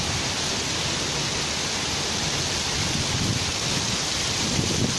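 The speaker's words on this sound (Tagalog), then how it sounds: "Lakas ng ulan." Heavy rain pours down in a steady, dense roar with no breaks, filling the scene evenly from start to finish and carrying no voices over it.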